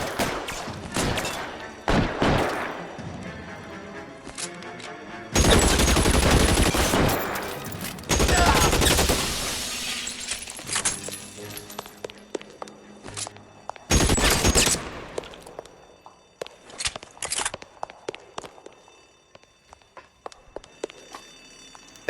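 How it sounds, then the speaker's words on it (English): Bursts of suppression gunfire in the video game L.A. Noire, loud sustained volleys with gaps between, followed by scattered single shots and footstep-like thumps. "I'll lay down some suppression fire."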